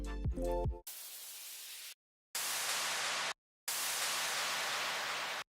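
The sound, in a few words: down sweep effects in a future bass drop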